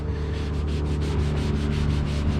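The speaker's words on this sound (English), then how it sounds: "this just takes a little bit of scrubbing" A cloth soaked in denatured alcohol is scrubbed hard against the scuffed plastic case of a Compaq LTE 5280 laptop, making a steady, close, rhythmic rubbing in quick back-and-forth strokes with no speech.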